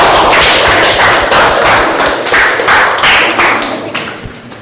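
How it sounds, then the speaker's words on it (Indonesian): A classroom group applauds a student group with a burst of loud, close, rapid clapping that carries on for several seconds before thinning slightly at the end, with no speech. "Tepuk tangan kepada kelompok"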